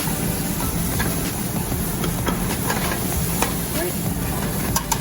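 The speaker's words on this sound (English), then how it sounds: "So I'm going to cook these shrimp." Shrimp sizzle and spit in a hot frying pan, a dense steady hiss with scattered pops and crackles, close and continuous, with a brief spoken word over it.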